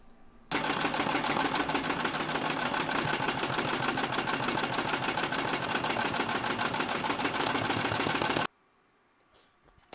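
A machine embroidering a stitched design onto a spinach leaf runs in a steady, rapid mechanical stitching rhythm, loud and close, for about eight seconds before stopping abruptly into near silence.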